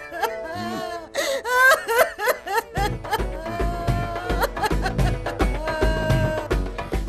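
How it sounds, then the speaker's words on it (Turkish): A young boy cries loudly, wailing and whimpering in uneven bursts over several seconds against a dense, noisy background. "Oğlum ağlıyor"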